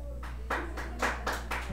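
Sharp handclaps in GTA San Andreas come in roughly four evenly spaced bursts over a low steady hum, each clap crisp and fairly close.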